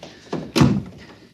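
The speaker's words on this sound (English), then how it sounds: "help me close the door." A heavy door swung shut as a radio drama sound effect, a soft scrape followed by a single close, solid thunk that quickly dies away, with no talk.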